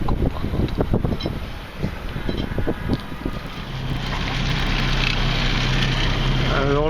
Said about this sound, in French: Et là il y a du vent de sud-est, et une grosse houle de sud-ouest qui rentre.